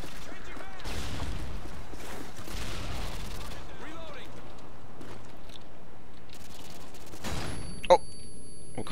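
Bursts of gunfire from the video game Call of Duty: Modern Warfare 2, several rapid volleys spread through the stretch with a sharp blip near the end, under a steady background bed.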